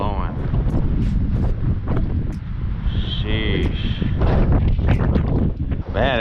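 Strong wind buffets the microphone at a truck port on a very windy day, a constant low rumbling roar with gusty bursts, while someone talks briefly over it.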